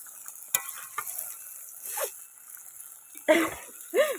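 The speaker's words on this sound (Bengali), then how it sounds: "রান্না বান্না নাড়ানাড়ি চলছে দেখতে পাচ্ছ এই যে মাংস কথা হচ্ছে এখন" Meat being stirred and fried in a pot at a small family picnic, with scraping spoon strokes and a light sizzle, close by and fairly quiet, broken by a few short bursts of noise and brief vocal sounds.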